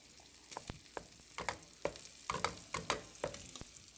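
Boiled potatoes mashed with butter in a pot, heard as a run of soft, wet squelching thumps and scrapes in an irregular rhythm, close and fairly quiet, with no talking.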